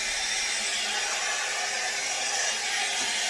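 A hot airbrush used as a blow dryer on medium heat gives off a steady, close, whooshing motor hum with a constant airflow hiss and no talking.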